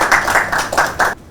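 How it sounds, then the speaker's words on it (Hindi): An audience claps to welcome a speaker at an event on slums in India, a short burst of brisk, loud hand claps that pulse unevenly and stop abruptly. "इनका हम स्वागत करते हैं तालियों से"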